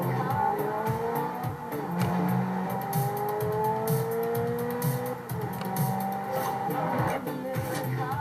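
A GTO roars through a race in Forza Horizon 2, its engine revving and shifting continuously with rising and falling pitch, tire squeals and loud close driving noise throughout.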